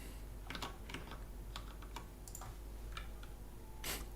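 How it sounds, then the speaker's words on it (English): Typing on a computer keyboard: soft, irregular key clicks tapped in small bursts over a steady low room hum, fairly faint, with a slightly louder cluster near the end and no talking. "Keyboard sounds really good."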